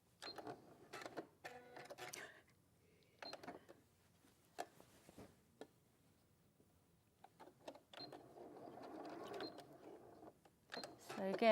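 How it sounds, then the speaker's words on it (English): Short bursts of rapid mechanical whirring from a sewing machine stitching thick fabric, starting and stopping several times, close and fairly quiet, with occasional soft speech between. "so I'm gonna sew them around."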